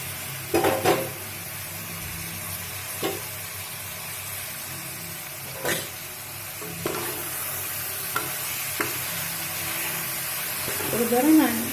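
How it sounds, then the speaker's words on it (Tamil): Kadaknath chicken pieces sautéing in a pan with ginger-garlic paste for a gravy, a steady sizzle broken by several sharp scraping stirs and utensil clatter, with a louder burst of stirring at the end. "இப்போ கறியை போட்டு வதக்கிக்கோங்க."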